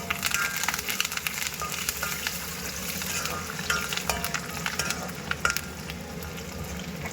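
Curry leaves frying in hot oil with dried red chillies, part of a home cooking session for Tamil New Year; a steady close crackling sizzle with sharp spitting pops and stirring scrapes throughout, no talking.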